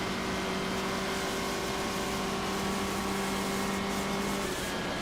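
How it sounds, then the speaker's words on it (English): A 1958 BRM Formula One race car engine shrieks at a steady high pitch, sustained and loud with strong harmonic tones throughout, then shifts slightly near the end. "That engine just makes just a shriek of a sound."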